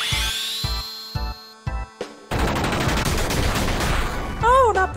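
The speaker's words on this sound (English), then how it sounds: "Gatling gun. Let's try that." A Gatling gun attack in Final Fantasy VIII plays as a short run of rhythmic mechanical clicks, then bursts into a loud, dense rattle of rapid gunfire that ends with a few sharp electronic chirps.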